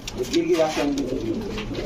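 Fancy pigeons at a pigeon farm coo in low, rolling notes, several birds overlapping steadily and close by, with a voice talking over them.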